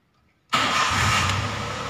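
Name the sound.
Daihatsu Xenia car engine starting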